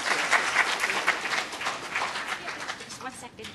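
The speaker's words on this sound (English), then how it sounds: "Let's give Professor Wang another round of applause." Audience applause following a conference talk, a moderately loud roll of clapping that thins toward the end, with some voices mixed in.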